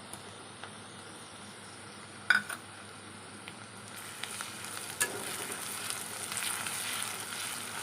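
Onion and garlic, with crushed ginger, sizzle steadily in a pan while cooking local chicken Assamese style, a soft continuous frying hiss that grows slightly louder and busier toward the end, with a few brief clinks of stirring.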